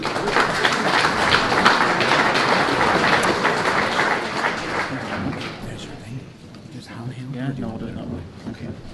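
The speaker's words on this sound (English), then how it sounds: "Round of applause, please, for Lee." An audience applauds to welcome a speaker, Lee, onto a stage at a talk on mental health and sports performers. A thick wash of clapping holds for several seconds, then dies down into quieter room noise.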